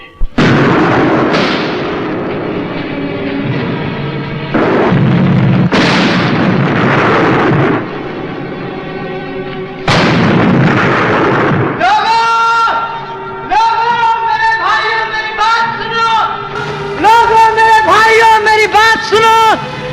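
Heavy explosions and bursts of gunfire boom repeatedly in a Hindi film battle scene, loud and close, followed by dramatic orchestral music swelling over the battle noise.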